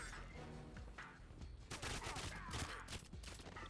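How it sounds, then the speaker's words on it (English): Rapid gunfire in the video game GoldenEye 007 Reloaded, dense bursts of shots cracking loudly and repeatedly, intensifying over the second half as an exchange of fire. "Oh, they're shooting at me."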